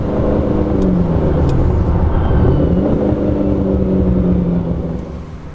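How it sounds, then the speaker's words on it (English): A Ferrari with a freer-flowing exhaust rumbles and revs steadily, a deep throaty drone swelling slightly before easing off at the end, with no voices. "giving it the freer flowing exhaust has actually helped. It's happier to rev. I love that sound."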